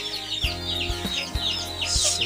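White chicks of an aseel breed cheeping and clucking close by in a steady run of short calls with some deeper fowl clucks, no talking.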